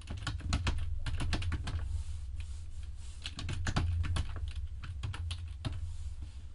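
Computer keyboard typing in quick bursts of close, crisp clicks with short pauses between runs, over a steady low hum, while numbers are entered into a spreadsheet.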